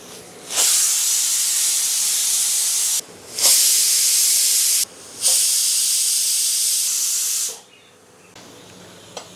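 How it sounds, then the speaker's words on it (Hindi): A pressure cooker holding cooked jackfruit vents its steam in loud, forceful hissing bursts. Three long blasts are separated by brief pauses, and the venting then fades to quiet. "प्रेशर कुकर की भाप मुक्त करते हैं।"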